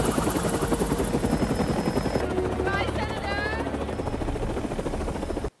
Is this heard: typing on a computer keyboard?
no